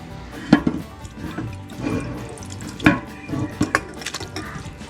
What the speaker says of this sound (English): getting ready to pour the comfrey in here and drain it out